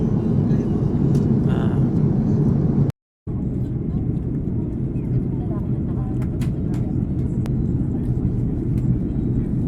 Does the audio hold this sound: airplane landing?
yes